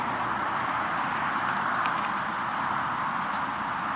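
A ridden horse's hooves clip-clop in a steady walking rhythm, a continuous series of muffled beats set against broad background noise, with no talk.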